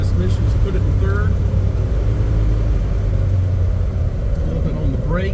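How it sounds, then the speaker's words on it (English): A Toyota FJ Land Cruiser with a synchronized manual transmission downshifts into third, its engine a loud, steady low rumble from inside the cabin, with someone talking over it. "Downshifting's easy with the synchronized transmission. Just put it in third."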